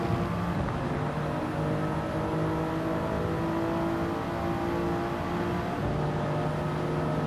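Race car engine in a racing video game, a steady loud droning whine held at constant pitch throughout, with no talk.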